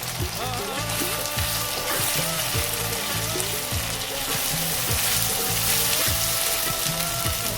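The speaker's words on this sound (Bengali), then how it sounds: "1 চামচ আমি আদা রসুন পেস্ট দিয়ে দিলাম, দিয়ে এটাকে ভালো করে ভেজে নেব।" Ginger garlic paste and chopped tomatoes fry in a hot pan for a curry, a steady loud sizzle with spatula strokes scraping and stirring at a regular rhythm throughout, close by and with no voices.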